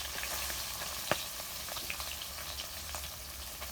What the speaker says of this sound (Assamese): আৰু ইফালে মাছখিনিও ভাজি দি দিলো